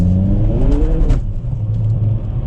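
A 2022 Hyundai Kona N accelerates hard with its boost engaged, the loud engine note climbing steadily in pitch before a shift drops it back to a deep, constant rumble, with no talk over it.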